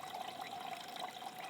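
Water pours steadily into a camping pot at a campsite in the Australian high country, making a continuous, fairly quiet splashing stream with no pauses.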